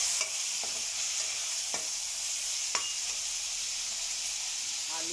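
Tomatoes and egg curry fry in a pan with a bright, steady hiss, as a spoon scrapes and taps the pan now and then at a moderate distance.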